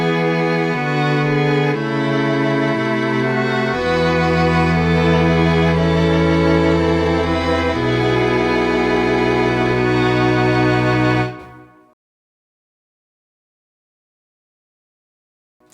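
Notation-software playback of a pop string arrangement, violins carrying the melody over a cello and double bass line, sustained chords shifting every couple of seconds, loud and steady for about eleven seconds before cutting to silence.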